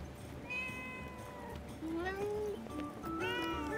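A cat in the video game Forspoken meows several times, rising and falling, clear and fairly close over a low ambient game background.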